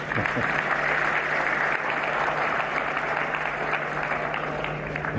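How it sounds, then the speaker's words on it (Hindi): Sustained applause from a large audience of students, parents and teachers fills a national exam-discussion event in India, a dense steady wash of clapping close and loud throughout with a faint hum beneath. "रोशनी, क्या कारण है कि आपने जब ये सवाल पूछा तो सबसे ज्यादा तालियां बजी?"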